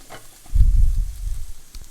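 Half a jalapeno drops into a pan of eggplant cooking for a Tomato Bhagara Baigan, setting off a loud, close, low-pitched sizzle that begins abruptly and holds steady for over a second with light stirring noise, no talking.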